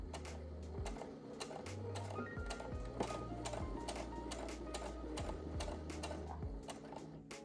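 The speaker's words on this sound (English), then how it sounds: "And then you're just going to continue to sew down." Sewing machine stitching puff quilt pieces, a steady close mechanical whir with rapid rhythmic needle ticks and short pitch shifts as the motor speed changes, continuous and fairly quiet, no voices.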